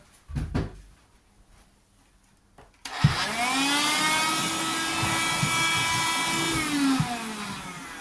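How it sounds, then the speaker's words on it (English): A small handheld hoover vacuum cleaner switches on after a few soft knocks and runs with a steady, fairly loud whirring drone for about five seconds before cutting off. "Get the little hoover."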